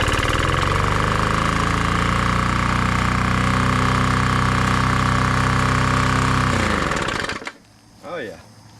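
A repaired lawn mower engine runs loud and steady at close range, a strong continuous drone for about seven seconds before it cuts off, followed by brief quieter sounds and a short voice.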